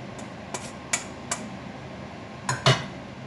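Cooked tagliatelle is stirred into a pan of leek fondue and shrimp, giving half a dozen light clinks and taps of a utensil against the pan over a faint background hiss.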